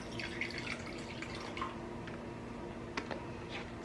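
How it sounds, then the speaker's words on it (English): Treated water pours and drips into a small animal enclosure at a wildlife rehab setup, soft close trickling with a few light splashes, quiet and continuous. "So we're going to take our treated water and"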